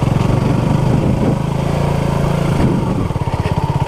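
A Honda CB250RS motorcycle engine drones loud and close as its rear wheel spins in mud on a green lane, holding a steady buzzing revs throughout before a pulsing change near the end.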